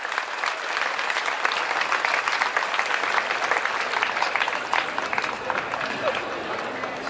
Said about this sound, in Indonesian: Tepuk tangan untuk Pak Menteri Pariwisata.